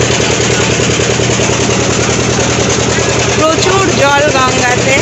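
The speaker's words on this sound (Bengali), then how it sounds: "ফেরিতে যেহেতু ভটভটি চলছে, ওই জন্য প্রচণ্ড সাউন্ডও আসছে" A ferry boat's engine drones loudly and steadily while crossing the Ganges, a rough, rhythmic chugging close by, with a voice speaking over it near the end.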